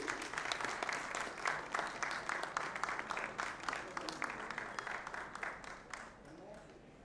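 A conference audience of actuaries breaks into a sustained round of applause, dense overlapping clapping with a steady pulse that gradually thins and fades near the end.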